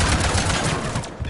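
Defense turrets opening fire in Mass Effect Legendary Edition, a loud continuous rattle of rapid automatic shots over a heavy low rumble, lasting about a second.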